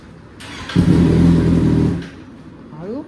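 A Kawasaki Z800 superbike with a leaking coolant radiator gives one loud, close engine rev that swells, holds for about a second and falls away, with people talking faintly before and after.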